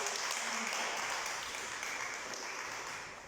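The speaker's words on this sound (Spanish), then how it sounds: "Den un aplauso al Señor" Church congregation applauding during a sermon, a sustained wash of clapping hands at moderate level that thins slightly toward the end.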